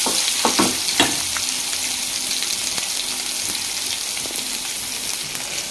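Eggplant pieces frying in turmeric-stained oil in a pan, with a steady loud sizzle throughout and a few soft clinks of stirring near the start, no talk.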